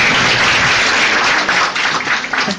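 A live audience applauds in a dense, loud wash of clapping that holds steady throughout and tapers slightly near the end.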